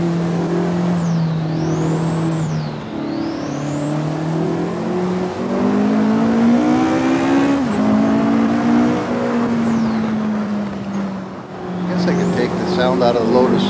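A Vauxhall 220 turbo car engine revs steadily while driving, its pitch rising and falling through gear changes, loud and close throughout with a brief whine near the end.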